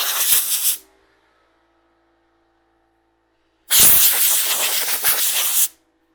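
Two loud bursts of compressed air from an air compressor hissing close by as dust is blown off wood cabinet doors, the first short, then silence, then a longer blast of several seconds.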